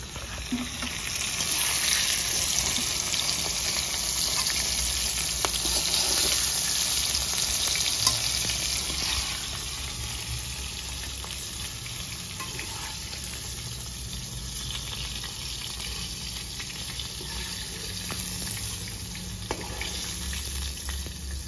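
Dried red chilies, whole cumin and chopped onion fry in hot oil, a close, steady crackling sizzle with occasional stirring scrapes, louder at first and then settling slightly softer.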